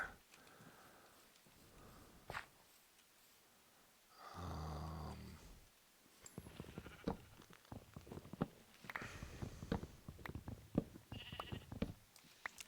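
A Minecraft sheep bleats in a long, wavering call, surrounded by rustling, clicking and shuffling sounds, with another shorter bleat later.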